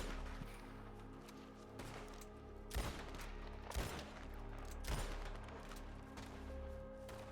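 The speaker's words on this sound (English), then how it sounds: "I think I can hear his rifle cracking in the night" Three faint, distant rifle cracks ring out about a second apart at night in the Red Dead WildRP roleplay game, each a sharp snap with a short echo over a low, steady background hum.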